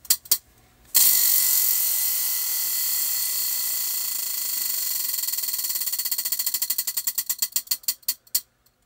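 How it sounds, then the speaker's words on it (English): A prize wheel gets a sharp pull, then its pointer ratchets over the pegs in a fast, loud clatter. The clicks gradually slow and space out until the wheel stops. "So we're going to spin the wheel first for that."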